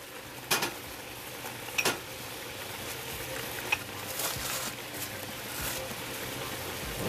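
Chopped diced celery tipped into a hot gumbo pot, sizzling steadily as it is stirred, with a few sharp spoon clinks against the pot.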